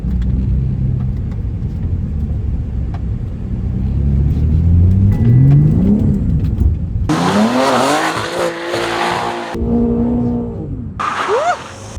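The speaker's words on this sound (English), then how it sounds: "This is our first time drifting, so of course we need to learn" BMW G80 M3 drifting, engine droning and revving up before bursts of loud, high tire squeal with a brief gap between them, close and intense.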